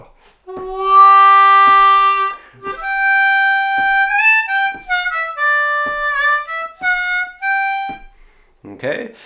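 A lone C blues harmonica plays an opening phrase, with clean sustained notes, scooped bends and short breaks between phrases, close and clear with no accompaniment.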